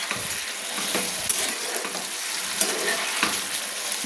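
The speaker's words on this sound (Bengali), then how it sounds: "ফুলকপি চিংড়ি কালিয়া রান্না করার জন্য আমি নেড়ে নিচ্ছি সুন্দর করে।" Cauliflower, potato and prawns tossed with spices in a hot pan give a continuous close sizzle, broken by regular scraping strokes of a spoon against the metal, with no voices.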